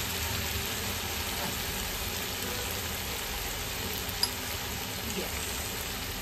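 Chicken Hakka noodles sizzle and fry steadily in a pan as soy sauce is added, with a constant hiss, one faint clink and no talking.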